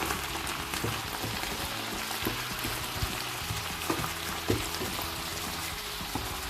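Wine simmers in a pan of veal filet with apple and onion, cooking French style. A steady, soft sizzle and bubbling runs throughout, with a few small clinks and taps and no one speaking.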